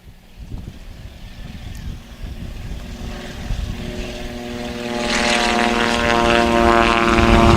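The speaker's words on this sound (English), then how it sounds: "And the Beaver's powering up for one more takeoff." A de Havilland Beaver propeller plane powers up for takeoff at a STOL practice event, its loud engine drone rising steadily and growing stronger over several seconds with strong wind and propeller wash.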